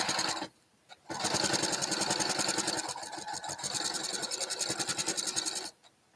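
Up close, a sewing machine stitches in fast rattling bursts, pausing briefly near the start and slowing partway through as it reverses to backstitch, then runs on before stopping.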